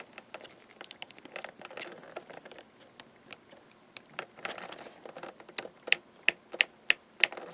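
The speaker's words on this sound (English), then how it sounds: "Before it wasn't even clicking" Rotel RX-1203 receiver mechanism clicking, a string of sharp dry ticks at an irregular pace that grow louder and more evenly spaced toward the end, close up with no voice over them.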